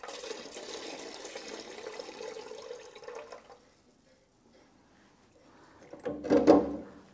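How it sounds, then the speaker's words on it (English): Water pressure is released from pipework after a pressure test, with the gauge reading 4.5 bar. A low flowing hiss fades to near silence, then a short loud rush of water bursts out close by. "so we'll release the pressure."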